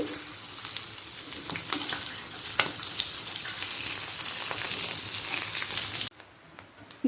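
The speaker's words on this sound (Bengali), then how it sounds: "ডিমগুলোকে এপিট ওপিট করে ভেজে নেব অর্থাৎ দুদিক করেই ভেজে নেব" Continuous sizzling and crackling of boiled duck eggs frying in hot oil, with sharp pops, then the sizzle suddenly drops quieter near the end.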